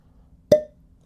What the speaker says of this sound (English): let's hear the cork pop.